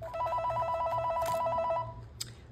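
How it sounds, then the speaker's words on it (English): A telephone rings with a rapid warbling electronic bell, a single burst lasting under two seconds, loud and close, followed by a faint click. "Sorry about that phone call."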